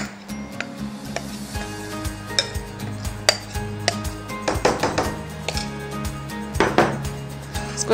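A greased bread loaf tin filled with batter is tapped on a counter, giving a series of close metallic knocks and clatters, uneven in rhythm, with a soft background hum.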